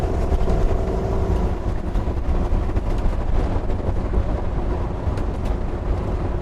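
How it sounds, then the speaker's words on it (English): Trucks pass a 2021 Newmar Bay Star Sport 2905 motorhome cruising at about 50 mph on a highway, a heavy low rumble and road roar that swells steadily without pause. "And here comes some trucks."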